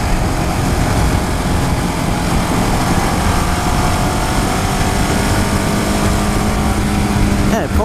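A 2015 KTM Duke 690 motorcycle rides and accelerates, its engine a loud, steady drone under heavy wind rush that fills the whole stretch.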